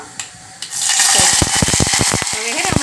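Curry leaves dropped into hot oil while tempering dal, bursting into a loud, crackling sizzle after a quiet start, with sharp pops and spits running on to the end.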